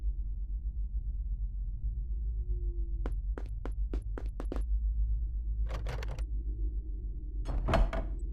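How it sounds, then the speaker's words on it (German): Doors in a Harry Potter video game set in the castle, knocking and clattering in a quick series of sharp, evenly spaced raps followed by a couple of heavier rattling thuds over a steady low rumble, with no talking. "wie die Türen teilweise einfach verschlossen klingen"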